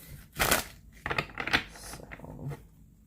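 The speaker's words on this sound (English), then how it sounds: "I am going to shuffle this way as well" A brand-new deck of playing cards being shuffled by hand, with a few quick riffling and rustling bursts of papery clicks close by, separated by brief pauses.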